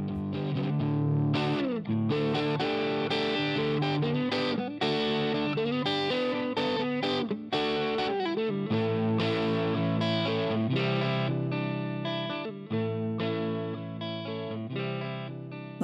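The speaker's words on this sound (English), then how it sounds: "to vintage small amp distortion." A guitar plays through the Eleven Free amp simulator in Pro Tools 11, using the Vintage Crunch model pushed to vintage small-amp distortion. The gritty, saturated tone is continuous and loud, with chords changing throughout.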